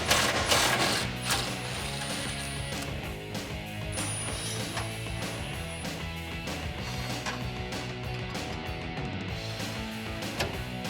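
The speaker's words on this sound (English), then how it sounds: "You need a 21mm socket and a 21mm wrench to get the bolt and nut off of the frame." Ratchet socket wrench working a bolt and nut free from a 2014-2018 Silverado 1500 truck frame, a steady run of quick metallic clicks and clanks, close up with no speech.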